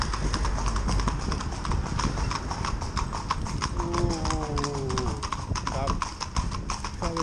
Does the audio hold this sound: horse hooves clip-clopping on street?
yes